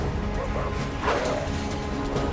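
A dog barks in the Divinity: Original Sin 2 video game, a couple of short barks and yips over a busy bed of game music and effects.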